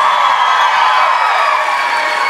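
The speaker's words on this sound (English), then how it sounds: "Give him a nice round of applause." Dance competition audience at a national event roars with continuous cheering and applause, a dense, loud wash of crowd noise throughout.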